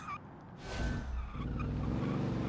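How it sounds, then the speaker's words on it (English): A homemade Brazilian car drifts and skids in a video game: a long tyre squeal slides over a steady engine drone, rising after a brief dip and holding loud to the end. "Holy, it wants to drift so bad."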